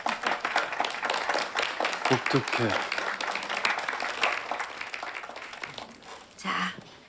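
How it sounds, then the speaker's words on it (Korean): A small group claps and applauds indoors, the claps loose and moderately loud, fading toward the end, with brief talk mixed in. "자, 그럼 박수!"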